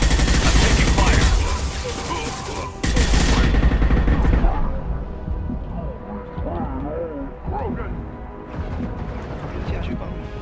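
Rapid gunfire bursts from Mass Effect 2 combat, loud and dense for the first few seconds, then fading into scattered shots and background battle noise with voices talking over it.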